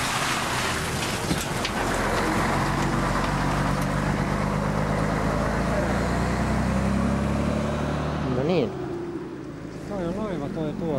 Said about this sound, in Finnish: Ja nyt tulee bussi tärisyttämään meitä tuosta noin.